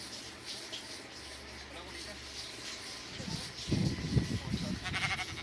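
Sheep bleat in the Craftsman video game, a few short cries rising midway over a faint background and then fading.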